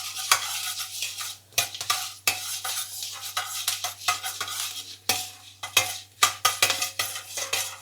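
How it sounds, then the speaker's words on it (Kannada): Cumin and black pepper roast in a pan on low heat, stirred with a metal spoon: repeated scraping strokes and clinks close by over a steady low hum. "ಸ್ವಲ್ಪ ಕೆಂಪಾಗ್ತಿದ್ದಂಗೆ ಸಣ್ಣ ಕಾವಿನಲ್ಲಿ ಜೀರಿಗೆನ ಹುರ್ಕೊಳ್ಬೇಕು."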